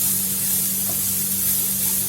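Restaurant-style egg fried rice is stirred in a hot pan, giving a steady, soft sizzling hiss over a low constant hum, with no talking.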